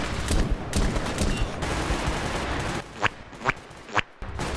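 Gunfire in the shooter game S.T.A.L.K.E.R. GAMMA, with rapid bursts of shots early on, then several sharp, separate cracks close together near the end, loud and with no talking.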